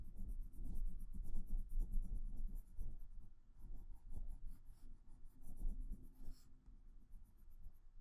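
A white colored pencil shades over green on paper to build highlights on a butterfly drawing, making close, continuous scratchy strokes in quick back-and-forth bursts with brief pauses between passes and no talking.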